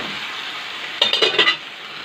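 Green okra sizzles in a pan as tomatoes are added and stirred. A steady, close frying hiss runs throughout, with a short cluster of utensil scrapes and clinks in the middle.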